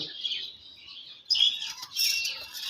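A pair of sky-blue Raj Golla pigeons give soft, high calls in close range, coming in short bursts with quiet gaps between them.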